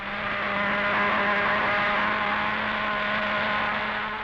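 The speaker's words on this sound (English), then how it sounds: "Pulse jets are the newest. They're fast as well as loud" A model aircraft pulse jet engine roars continuously, a loud, steady buzzing drone with a strong low pulsing tone that swells slightly and holds without a break.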